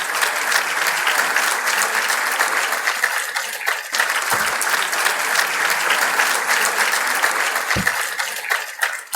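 Steady audience applause, dense and continuous clapping from a large crowd that holds at an even level, with a couple of soft low thumps along the way.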